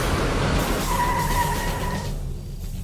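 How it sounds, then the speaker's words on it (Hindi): A car skids with a sustained tire squeal on the road, loud and close, fading out toward the end with no burst clearly marked. "लगता है गाड़ी का टायर पंक्चर हो गया, फट गया शायद टायर।"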